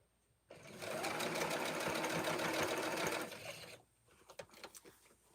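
A sewing machine stitches a quilt block in one loud, steady run of rapid mechanical whirring lasting about three seconds, then stops, leaving faint clicks and handling noises.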